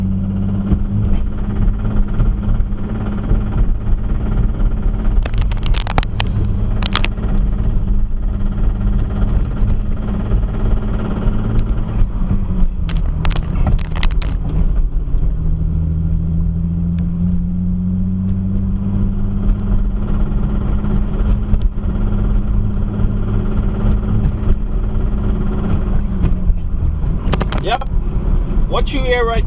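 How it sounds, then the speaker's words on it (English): A car's faulty transmission drones low and constant while driving, with a humming tone that slides in pitch partway through, under road and wind rush and a few brief rattles. "What you hear right now is my transmission."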